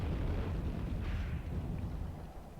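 Artillery fire landing in Graviteam Tactics, set on the 1942 Kharkov front: a deep, rumbling explosion that rolls on steadily with heavy low-end boom and no voices over it.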